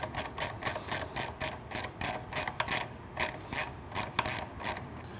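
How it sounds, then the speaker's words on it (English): A 12mm wrench ratchets a header nut tight on a Triumph Street Twin motorcycle, giving a quick series of sharp, regular metallic clicks close by, in short bursts with brief pauses between strokes. "Put the nut on. Holding pressure down with our 12mm wrench."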